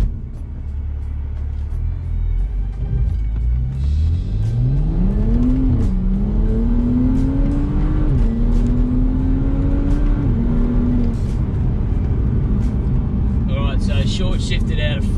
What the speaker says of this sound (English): I'll go and do a 0 to 100 time